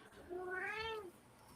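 Domestic cat giving one drawn-out, rising-then-falling meow at close range, alone over a quiet room hum.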